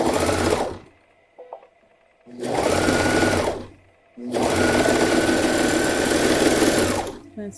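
A sewing machine runs a long basting stitch along a knit neckband on a youth tank top, in three sustained bursts of steady whirring separated by short pauses.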